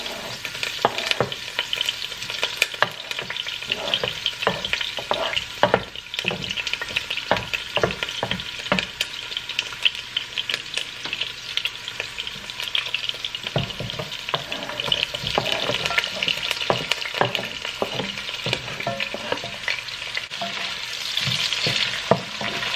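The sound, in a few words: fish stuffing vegetables frying in hot oil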